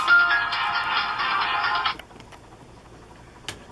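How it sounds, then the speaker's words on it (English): A mobile phone rings close by with a loud, steady electronic ringtone for about two seconds, then cuts off abruptly, leaving quiet room tone and a faint click. "now my phone is going to ring"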